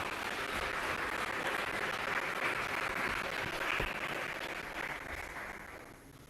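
Sustained applause from an audience of diplomats and guests at a formal state event with the Tanzanian president, a dense wash of clapping that holds steady throughout and eases slightly at the end.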